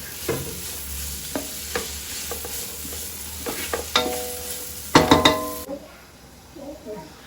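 Spiced food sautés in a pan with tomato and a ginger, garlic and green chilli paste, a low sizzle under repeated stirring clicks and scrapes of a spoon that build into a louder clattering burst near the end.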